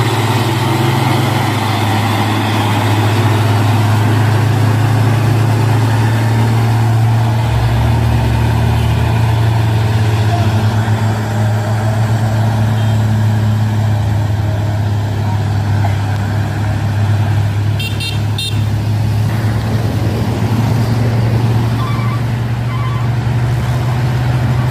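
Trucks, among them a tanker, labour up a hill with a steady, loud low engine drone that holds for the whole stretch, a shift in pitch midway and faint clicks later on.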